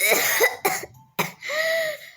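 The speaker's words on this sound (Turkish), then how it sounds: "çok öksürüyor" A girl who is ill with a phlegmy, tickly cough coughs several times in close bursts, loud and near, with no talking.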